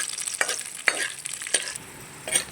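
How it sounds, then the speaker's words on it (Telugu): Dry fruits stirred and frying in hot ghee in a pan over low heat for Bombay Karachi halwa, with a gentle sizzle and several sharp scraping strokes of a spoon, close and clear. "Dry fruits వేయించుకోవడానికి. డ్రై ఫ్రూట్స్ వేస్తున్నాను."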